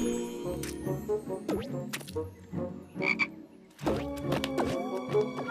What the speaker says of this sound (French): Maman, elle a peur d'une grenouille.